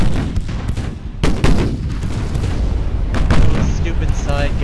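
A light cruiser fires its guns in a naval battle video game, with repeated booming blasts and rumbling over a continuous loud battle din, heavy and close.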